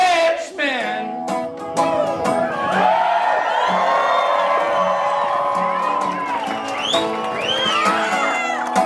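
A concert crowd roars for a singer with loud whoops, shouts and cheers layered over sustained applause, rising and falling in waves throughout.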